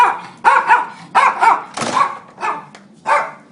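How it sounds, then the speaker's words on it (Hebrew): A dog barks indoors in a series of about six sharp, loud barks with short gaps between them, close by, with no talking over them. "כלב רע."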